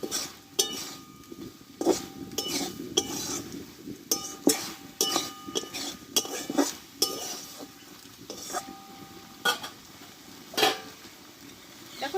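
Metal spoon stirring Bengali drumstick (sojne data) curry in a pan: repeated scraping and clinking against the pan, close and rhythmic, over a faint sizzle, with no talking.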